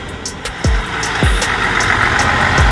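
Heavy trucks rumble and idle at close range in a stalled night-time traffic jam, with a steady low engine drone, a few sharp descending thumps or air-brake releases, and faint high beeps now and then.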